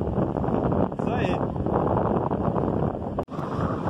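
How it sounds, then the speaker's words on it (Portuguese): Strong wind roars across the microphone at the seashore during a sea-fishing trip, a loud, constant buffeting rumble with a brief dip partway through. "virou a ventania aqui, um tempo doido"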